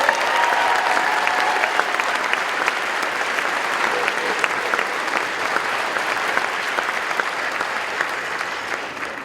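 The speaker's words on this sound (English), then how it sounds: "Let's give them another round of applause." An audience at a school awards night applauds a high school jazz ensemble, a loud, sustained roar of many hands clapping that holds steady throughout.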